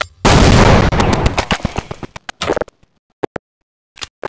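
A loud grenade blast from Counter-Strike 1.6 on the aim_2fort map, a dense roaring burst that decays over about two seconds, then sharp scattered gunshots trailing off with a final close pair of shots.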